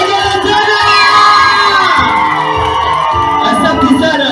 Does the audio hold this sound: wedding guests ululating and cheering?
yes